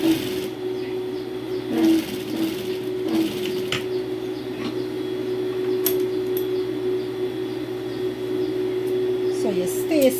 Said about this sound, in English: you're pulling your stitch towards the pocket and you're stitching on the edge